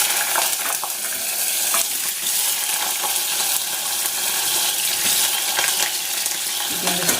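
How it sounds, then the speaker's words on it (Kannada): Paneer fries in hot peanut oil in a pan, a close, continuous crackling sizzle with occasional stirring scrapes and small pops throughout. "ಪನ್ನೀರ್ ಮಾತ್ರ ಫ್ರೈ ಮಾಡಿ ಇಟ್ಕೊತೀನಿ ಫ್ರೈಡ್ ರೈಸ್ಗೆ"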